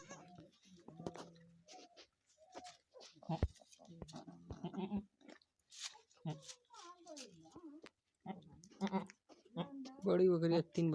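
Goats bleat on a goat farm with a large doe and her three newborn kids, the calls breaking in short wavering bursts between and under nearby human speech, growing louder and denser toward the end.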